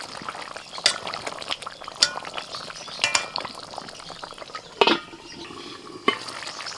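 Fried eggplant goes into a simmering mustard fish curry in a pan, giving several distinct splashy plops and scrapes over a steady bubbling simmer, with a few spoon clinks.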